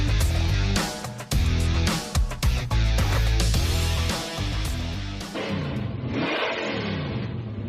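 A Chevrolet C10 truck engine runs loud and close, revving up and down before settling toward a steadier rumble, with no talking.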